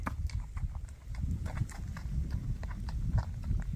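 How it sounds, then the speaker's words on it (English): Horse hooves clop and crunch over loose, shifting riprap rocks in an uneven walking rhythm while crossing a creek, close by, with water and outdoor noise in the background. "here goes Rocky into the second creek with the loose riprap"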